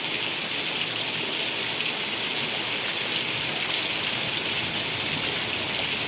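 Very heavy rain with wind lashes down in Vejalka village, Ranpur taluka, Botad district, during a thunderstorm with lightning, a dense, loud, unbroken hiss of downpour with no voices.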